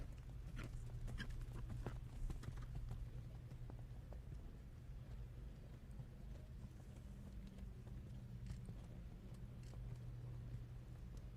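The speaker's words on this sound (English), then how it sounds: "they're into canter and on to their medium canter circle up at C" A horse cantering through a medium canter circle in the dressage arena at a junior FEI eventing European championship, hoofbeats thudding in a steady rolling rhythm amid a constant low hum of arena ambience, with no speech.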